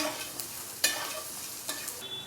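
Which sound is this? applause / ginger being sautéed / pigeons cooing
ginger being sautéed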